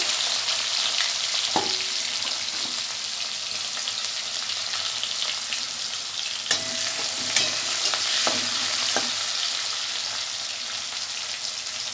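Onion frying in a pan, giving a steady close sizzling hiss with occasional sharp clicks and scrapes as it is stirred, continuous for the whole stretch.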